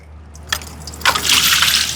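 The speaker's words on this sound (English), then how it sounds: "You'll need to step back for a second while the water drips out." Leftover water gushing and trickling out of the pump on a 2000-litre water truck, starting with a splash and building into a steady, close splatter.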